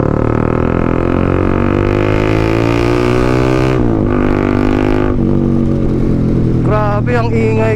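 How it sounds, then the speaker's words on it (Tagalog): A Honda CB150X motorcycle fitted with a new, loud aftermarket exhaust pipe roars while being ridden, its engine note climbing steadily then dipping and surging again as the throttle changes, loud and close throughout. "Grabe yung tunog ng motor na to guys."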